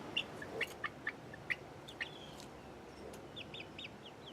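Hens and young chicks together in an outdoor run, giving a series of short, soft clucks and chirps at irregular intervals, fairly faint against a quiet background.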